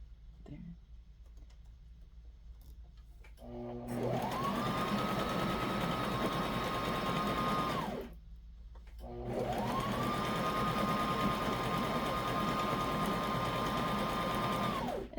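Domestic sewing machine stitching a back stitch on a diaper cover, two runs of several seconds each that rise to a steady whirring hum and then stop, heard close with a short pause between them.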